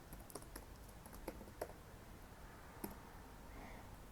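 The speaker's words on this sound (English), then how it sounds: "I don't know how to use a keyboard." A few faint, scattered keystrokes on a computer keyboard, soft isolated clicks in a quiet room with no talking.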